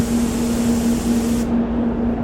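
A Satajet X5500 HVLP spray gun with a 1.2i setup sprays metallic black car paint at 2 bar with full fan and full fluid, a steady close hiss that cuts off sharply near the end.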